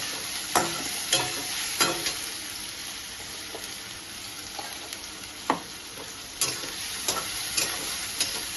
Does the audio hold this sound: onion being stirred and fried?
yes